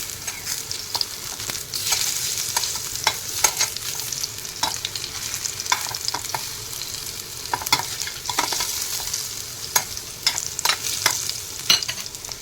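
Taro (arbi) leaves shallow frying in a pan, with a steady close sizzle of hot oil and repeated scraping stirs as they are sautéed and turned, no voices.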